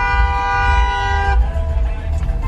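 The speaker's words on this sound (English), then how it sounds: "when people don't pay attention to the lights, they honk." Horns blare in street traffic, with one sustained honk sounding loud and close for over a second and then cutting off, leaving rumbling traffic noise.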